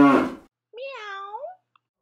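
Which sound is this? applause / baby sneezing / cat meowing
cat meowing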